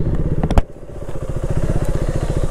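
A motorcycle on a mountain road in the Spiti Valley idles close by with a loud, rapid, even engine thump after a brief clatter, as the bike is stopped at a police checkpoint.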